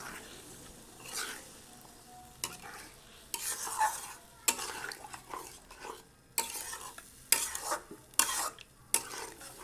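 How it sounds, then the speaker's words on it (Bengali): Haleem lentil mix is stirred into cooked mutton in a pot, a spoon scraping and clattering against the metal in irregular bursts while the food sizzles faintly underneath. "এখন হালিমগুলো সব দিয়ে দেবো, মিক্স করবো সাথে মাংসের সঙ্গে।"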